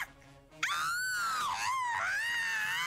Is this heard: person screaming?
yes